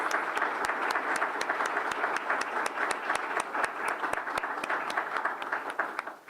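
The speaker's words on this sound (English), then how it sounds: "Please give a round of applause for our finalists." Audience applause for award finalists at a community impact awards ceremony, a full even patter with a few sharp, prominent claps standing out regularly across the whole stretch.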